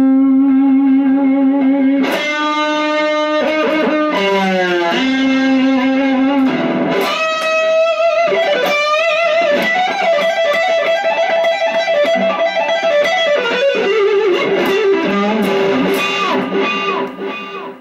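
An electric guitar played through a distortion pedal on a pedalboard rings out alone: loud, sustained, gritty notes and bends shift in pitch across several phrases, with a few choppy strums between held tones.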